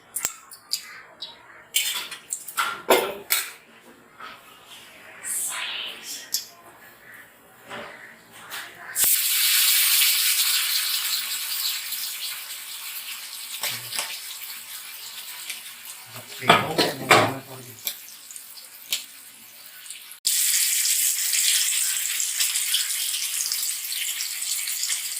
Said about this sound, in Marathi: आता आपण फ्राय करूया